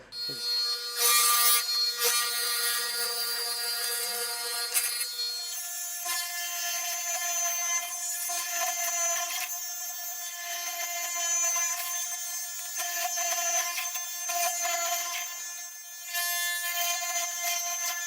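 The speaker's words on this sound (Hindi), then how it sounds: "इसी चीसल की मदद से हो जाएगा" Repeated scraping and rasping of a chisel cutting into wood, steady with brief pauses, close up and fairly loud, no speech.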